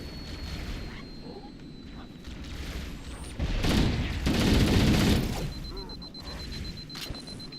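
Ghost vehicle plasma cannon firing in Halo CE, a burst of rapid crackling shots swelling in the middle and fading, set within game background noise.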